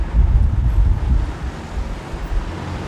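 Wind gusting outdoors on a city street, a steady low roar and buffeting rumble across the microphone, loud and continuous with no voices.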